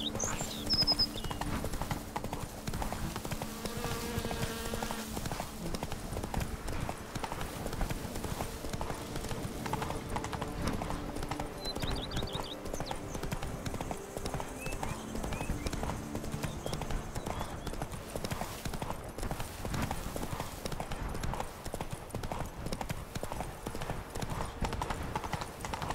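Horse hooves clip-clop in a steady, continuous rhythm through the Witcher 3 Blood and Wine game world, moderately close and even throughout, with soft ambient game sounds beneath.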